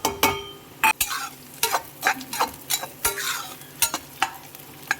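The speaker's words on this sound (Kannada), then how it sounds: "ಇವಾಗ ಈ ತರಕಾರಿನ ಆ್ಯಡ್ ಮಾಡ್ತಾಯಿದ್ದೀನಿ." Vegetables are tipped into a pan of fried onions and stirred, with a steady close sizzle broken by repeated sharp scraping and clinking strokes of the spoon against the pan.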